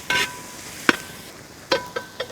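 Small shallots fry in coconut oil in a pan with a low, steady sizzle. A few sharp stirring scrapes and clinks stand out above it at irregular intervals.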